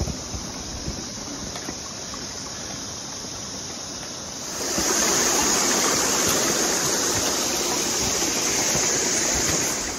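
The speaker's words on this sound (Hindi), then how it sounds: "झरना है, यहाँ पर पानी वानी भर सकते हो आप लोग" A small mountain waterfall stream on the Kalpeshwar–Rudranath trek rushes in a steady broadband roar, growing louder and closer partway through as the water is approached, with no voices over it.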